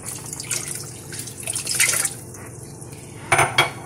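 A cup of water poured into a cooking pot with sugar and a cinnamon stick splashes and trickles in short bursts, with light clinks of metal, close by.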